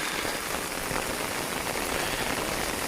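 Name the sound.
heavy rain falling on a tricycle camper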